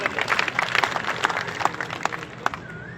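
An outdoor crowd claps at a political rally in Moga, Punjab, a brisk patter of many hands at moderate distance, steady for a few seconds with no talking over it.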